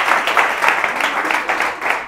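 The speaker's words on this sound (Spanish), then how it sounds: "aplauso para ella" Applause from a comedy show audience, short bursts of clapping with some cheering mixed in, fairly loud and close for a couple of seconds.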